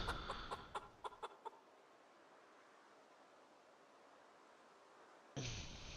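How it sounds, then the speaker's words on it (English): Chickens cluck inside a house in the Project Zomboid video game, a quick series of sharp clucks over about a second and a half, then a long quiet stretch of low room hiss before another burst of sound near the end. "House chickens."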